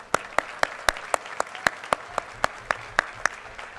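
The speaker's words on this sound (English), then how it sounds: "I think a big round of applause for all the awardees" Thin, scattered hand claps from a few people at a university convocation ceremony for the awardees, about a dozen sharp, separate claps in an uneven rhythm over a quiet room.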